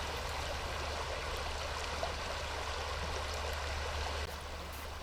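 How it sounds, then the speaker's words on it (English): Creek water flows steadily around broken chunks of ice in winter, a soft, continuous rushing and trickling at moderate distance, with no voices. "that, along with the moving water, has been enough to bust up some really big pieces of ice in this creek"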